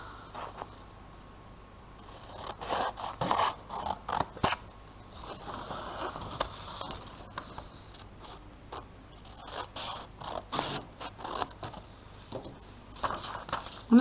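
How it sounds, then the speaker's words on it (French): Scissors snipping through paper to cut out a title for a classroom lesson, a string of short crisp cuts and rustles in bursts, close and moderately quiet in a calm room. "On peut prendre notre ciseau et on va pouvoir déjà découper le titre"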